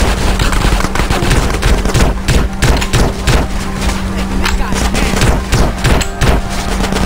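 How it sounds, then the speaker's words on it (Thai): Rapid machine gun fire in GTA San Andreas rattles on continuously, loud and close, with dense repeating bursts throughout and a steady hum underneath. "ปืนกลว่ะ"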